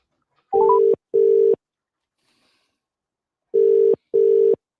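A telephone call is being placed, and two pairs of short, loud electronic ringback tones sound clearly in the quiet, with a silent gap between the pairs.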